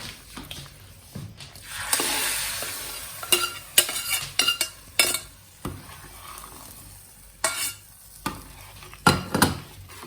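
Curry tadka cooking in butter over a gas flame, a crackling sizzle with repeated scraping and clattering stirs against the pan, close and irregular, with no talk.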